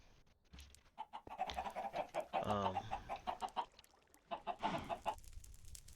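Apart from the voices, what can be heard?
chickens clucking in a Minecraft chicken farm, video game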